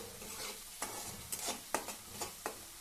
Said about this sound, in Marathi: चांगली ही पेस्ट मस्त अशी परतून घेऊया आपण